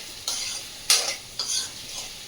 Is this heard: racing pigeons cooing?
no